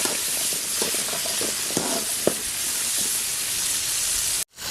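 Mustard seeds, fenugreek and vadagam sizzle in hot oil for a Tamil fish curry, a steady close hiss with scattered pops and crackles that cuts off abruptly near the end.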